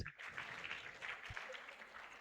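Students at a university International Women's Day event applaud their Vice Chancellor, a steady, fairly faint wash of clapping from a crowd that continues throughout.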